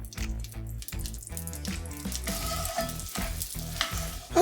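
Two pats of butter sizzling in a pan for an andouille gravy, a loud continuous close frying hiss with clinks and stirring, no talking.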